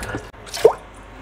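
A single wet drip or plop of water from a running tap lands close by, short and soft against a quiet background.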